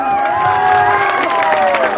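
A large crowd at an outdoor Adivasi Day tribal gathering in Nagri, Dhamtari cheers loudly, with shrill whistles and shouts over a dense, continuous roar.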